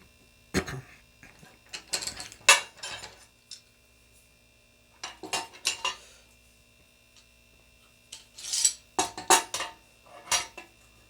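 A homemade welding table clamp is tightened until it locks, producing close metallic ratcheting clicks and clatter in three separate bursts with quiet gaps between them.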